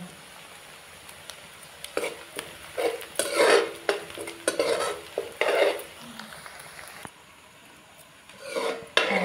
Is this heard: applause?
no